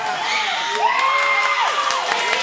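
A large crowd cheers and whoops loudly and continuously at a wrestling-style event, with high shouts and whistles rising over the roar.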